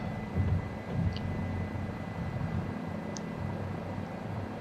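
Low, steady helicopter rotor and engine drone from a flight simulator game near Port Kembla Steelworks in Wollongong, Australia, a constant rumbling hum with no voices over it.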